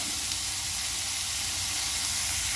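Curry leaves, onion and ginger sautéing in hot oil in a pan for a chicken liver fry, a steady dense sizzle and hiss held at even loudness without a break.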